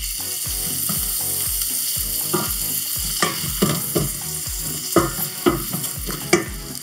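Chopped onion stirred in a pan of olive oil, sizzling steadily with repeated scraping strokes of the utensil in a regular rhythm, close and moderately loud, with no talking.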